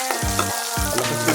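Chopped garlic sizzling in hot olive oil in a pan, a loud steady crackle with a few low thumps and spoon scrapes as it is stirred, up close.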